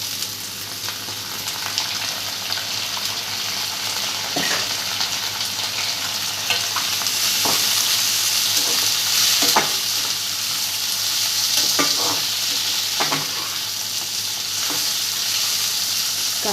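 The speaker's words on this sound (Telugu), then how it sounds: "కాసేపు వేగనిద్దామండి." Boiled broad beans (chikkudukai) fry and sizzle in a pan with a steady hiss, while a spatula scrapes and stirs them in brief, repeated strokes, close and continuous.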